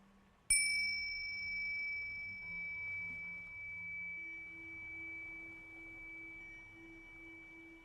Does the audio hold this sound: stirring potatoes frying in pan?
no